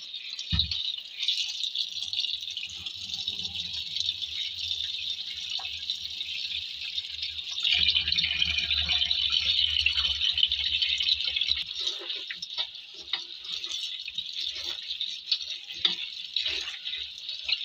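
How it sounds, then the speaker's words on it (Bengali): Chopped leafy greens are washed by hand in water, a steady close splashing and rattling that swells louder midway, continuing without speech. "ধুয়ে নেব, খুব পরিষ্কার করে ধুয়ে নেব শাকটা।"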